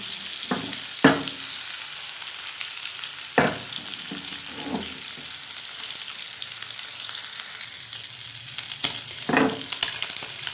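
Chunks of chicken tikka boti sizzle and fry steadily in a pan over lowered heat, with a few sharp stirring scrapes and clatters breaking through the constant close hiss; no one speaks.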